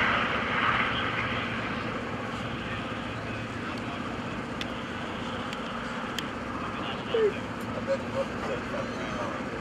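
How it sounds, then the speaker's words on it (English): Steady engine drone of a World War II era L-Bird light aircraft taking off, a continuous broad roar at moderate distance with wind and crowd ambience and faint distant voices. "Very smooth, very nice takeoff by P-17."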